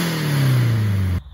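A 1999 Subaru Impreza WRX turbo engine with a pod-style cold air intake filter revs hard and close, its tone climbing steadily, then cuts off abruptly.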